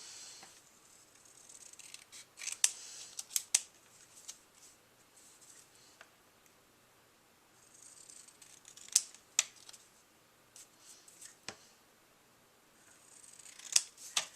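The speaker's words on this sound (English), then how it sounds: "I'm going to trim it again." Scissors trim card paper for a handmade cup-of-soup holder card, a series of quiet crisp snips in small clusters with pauses between them, close to the microphone.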